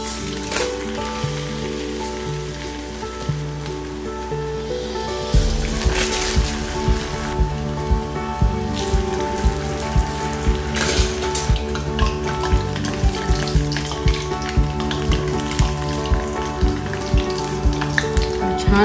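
Chakli, the spiral Diwali snack, is lowered into hot oil and fries with a loud, crackling bubbling that starts abruptly after a quieter stretch and then keeps up steadily with small pops.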